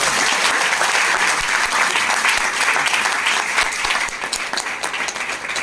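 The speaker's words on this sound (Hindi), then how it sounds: "बजाओ ना तालियां, 4 बार" A seminar crowd claps loudly and continuously in a hall in Nallasopara, a thick, even wave of applause that thins slightly toward the end.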